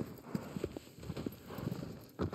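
Horse hooves clip-clopping in the video game Shadow of the Colossus, a quick irregular series of close hoof beats over a low ambient hum.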